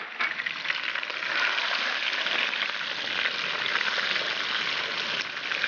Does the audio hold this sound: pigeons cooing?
no